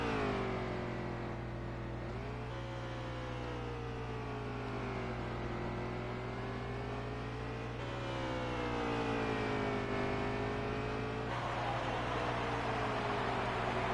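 A race car engine in a racing video game holds a high, steady whine, rising and falling in pitch as it revs through gear changes on a road course, loud and continuous with no talk.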